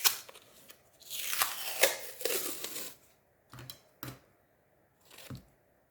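Scissors cut gummed paper tape up close, with a rough crunching snip followed by a few short separate clips and rustles, fairly quiet and with no voices.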